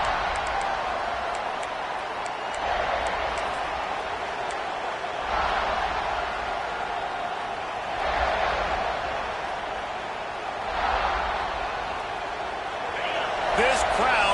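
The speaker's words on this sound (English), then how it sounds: "This crowd bringing an ear-splitting welcome to their visitors." A college football stadium crowd roars through a Gamecocks kickoff, a broad, sustained wall of cheering that swells and dips, with a commentator talking over it.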